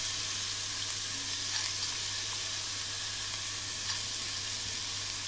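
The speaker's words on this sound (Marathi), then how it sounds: "आता ही मी चवळी टाकते." Black-eyed peas tipped into a hot pan of sautéed masala for a potato curry, giving a steady, close frying sizzle and hiss that carries on evenly throughout with no talking.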